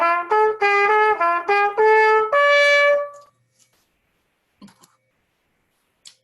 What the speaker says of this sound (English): the trumpet makes sound by just blowing air through the horn